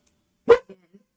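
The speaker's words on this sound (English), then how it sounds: "Oh, Puppers is barking" A single sharp dog bark, close and clear, followed by two faint short echoes in an otherwise silent space.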